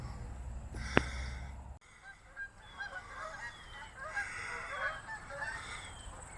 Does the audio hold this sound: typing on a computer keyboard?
no